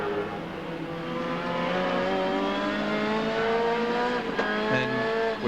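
Touring race cars circulate at Winton during a 1990 ATCC round, one Valvoline-entered car among them, engines droning loud and close with shifting revs that rise and fall continuously, a brief sharper burst near the end.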